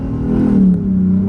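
A car, apparently a tuned Genesis 5.0, accelerating hard at full throttle, a loud, steady engine drone with the pitch climbing and then dipping slightly, close and without talk.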